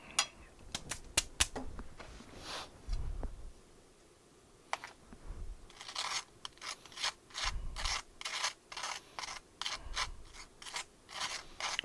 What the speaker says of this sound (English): Let's scrape off a little of that. That toast is toast